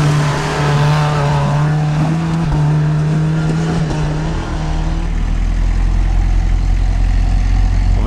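An off-road car's engine strains up a steep hill during an all-wheel-drive and tyre test, holding a loud, steady droning note before shifting into a rougher, broader roar.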